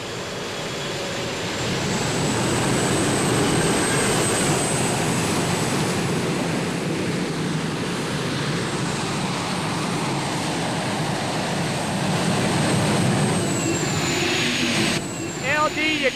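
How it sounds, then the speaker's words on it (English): A turbine-powered modified pulling tractor at a truck and tractor pull gives a loud, sustained turbine whine throughout, a high steady scream over a heavy engine rumble that surges and shifts near the end. "complete turbine power, whether it's the starter motor or the turbines powering this modified tractor"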